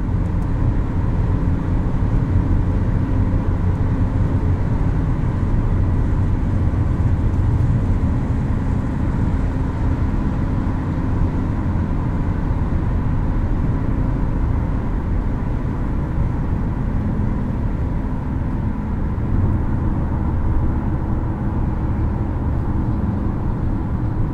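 A 2022 Infiniti QX55 Lux cruises on the highway, its cabin filled with a steady, broadband road and wind roar that holds at an even level for the whole stretch, with no voices.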